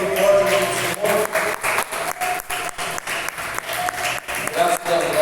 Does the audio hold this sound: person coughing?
no